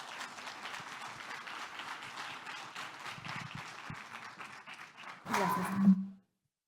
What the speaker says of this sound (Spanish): los recibamos con un fuerte aplauso a las personas de Choker, Angélica y Edison. Un aplauso para ellos